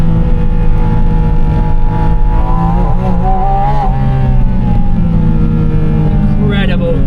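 A mid-engine Porsche 718 Spyder RS climbs the Millbrook hill, its engine roaring loud and close without letup, pitch rising and shifting through the gears as a driver talks over it.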